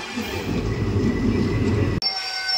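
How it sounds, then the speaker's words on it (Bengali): A train rolls into a station with a steady, loud rumble of wheels and carriages, then halts abruptly, leaving a quieter hum and faint high whine. "দাঁড়াও, ট্রেনটা দাঁড়া"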